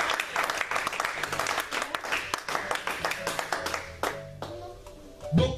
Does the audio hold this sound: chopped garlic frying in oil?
no